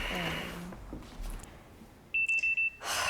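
Censor beeps over dialogue from the TV series Ginny and Georgia, four quick, evenly spaced tones in a short burst that follow a stretch of speech.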